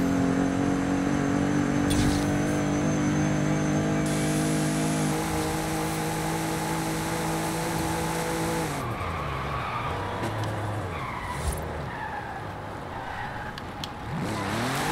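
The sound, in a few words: 1982 Volkswagen pickup with H5 drift tune driving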